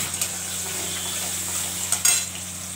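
Onions frying in a pan with bay leaf, cumin and black cumin, a close, continuous sizzle broken by a few sharper scrapes and clinks of a spoon stirring.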